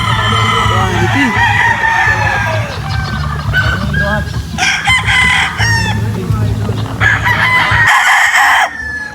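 Several LDT line gamefowl roosters crowing at a farm, long overlapping cock-a-doodle-doo calls near and loud, with clucking and other farm birds around and brief background voices.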